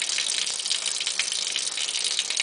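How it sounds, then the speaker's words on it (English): A kitchen water tap runs in a steady, full gush, a continuous close hiss of water pouring into a sink with no talking. "turn your water on"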